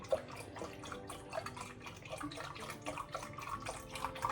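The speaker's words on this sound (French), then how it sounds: "je mets dans ma casserole directement 50 centilitres de lait" Semi-skimmed milk pours into a saucepan, a soft continuous liquid trickle and gurgle with faint bubbling splashes, fairly quiet and close throughout.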